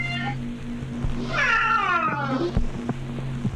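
A cat gives one long, drawn-out meow rising then falling in pitch. The sound is close and clear over a low steady hum, with a few soft clicks afterward.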